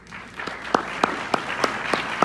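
At a LULAC debate, an audience breaks into scattered clapping after a candidate's statement: a handful of distinct, evenly spaced claps stand out over a thin crowd murmur.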